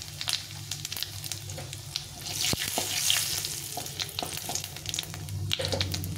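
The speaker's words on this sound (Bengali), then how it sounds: "এখন আমি আলু আর কচুটাকে ভালো করে একটু ভেজে নেব।" Potatoes and taro pieces fry in hot mustard oil over cumin, bay leaf and dried chilli, a steady close sizzle and crackle with a few sharp stirring knocks against the pan.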